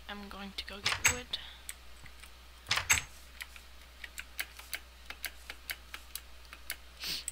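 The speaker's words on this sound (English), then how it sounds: "sorry if the clicking of my keyboard annoys" Computer keyboard keys clicking during a Minecraft session, a steady run of light, crisp taps with a couple of denser bursts, close and fairly quiet with no speech over them.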